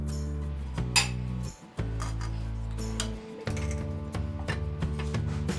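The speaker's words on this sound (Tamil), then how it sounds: "இப்போ மூடி வைக்கலாம் லிட்டு போட்டு." Metallic clinks and taps as a lid is set onto a pot of jeera ghee rice water coming to a boil, with a low steady hum underneath and a few sharp knocks.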